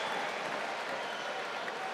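A boxing arena crowd applauds a boxer after the fight, a dense, continuous patter of clapping heard from a distance, with a commentator speaking over it.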